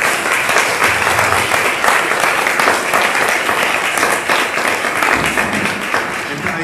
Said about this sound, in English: round of applause for our first panel